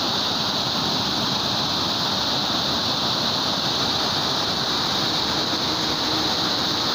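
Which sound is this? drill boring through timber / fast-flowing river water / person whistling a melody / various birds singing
fast-flowing river water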